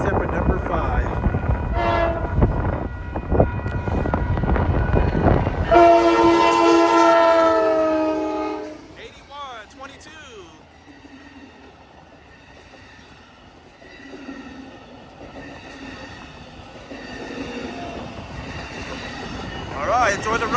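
An Amtrak California Zephyr led by two P42 locomotives rolls past on a Reno street, sounding a loud horn blast before the rumble and wheel squeal fade into a distant clatter, with voices talking over it.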